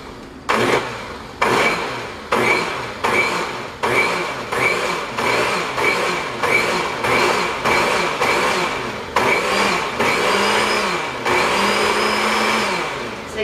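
A blender pulses homemade cream of celery soup in repeated short bursts. Each bursts loudly from the motor and winds down, in a fairly steady rhythm close up, and the pitch rises and falls near the end.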